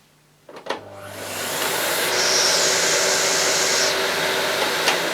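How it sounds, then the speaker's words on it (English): An Electrolux Excellio Z5040 vacuum cleaner switches on after a click and climbs to a loud, steady broadband roar, with a higher whine joining for a stretch in the middle. "So it's a pretty quiet vacuum, but it should be."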